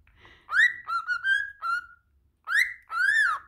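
A pet bird whistles and chatters to itself nearby, giving a series of clear, rising and falling whistled notes in short bursts separated by brief pauses.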